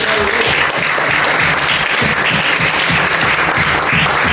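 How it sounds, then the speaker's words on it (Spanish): A church congregation claps hard at a Spanish-language sermon, a loud, dense, continuous roar of hands filling the room without a break. "Dale fuerte palmas a Dios."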